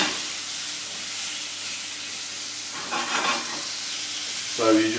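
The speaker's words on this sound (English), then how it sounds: "stir the beef around the pan so that you coat it and it goes brown" Beef sizzling steadily as it is stirred and fried in a pan, a continuous hiss with a couple of louder stirring scrapes toward the end and no talk.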